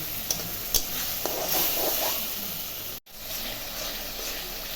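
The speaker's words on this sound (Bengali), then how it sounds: "এখন মশলাটা দিয়ে ভালো করে পেঁয়াজটা কষাবো।" Onion and tomato frying with a ground spice paste, turmeric and salt in a pan for egg curry, with a steady broadband sizzle and occasional scrape-like stirring clicks, close and moderately loud, briefly cut out near the middle.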